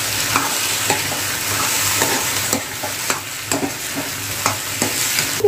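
Potato bhaji being tossed and stirred in a frying pan: a steady sizzle with regular scraping strokes of a spatula against the pan, close and fairly loud, no voices.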